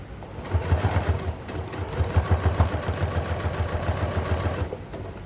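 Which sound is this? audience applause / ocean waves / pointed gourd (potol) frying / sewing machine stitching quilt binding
sewing machine stitching quilt binding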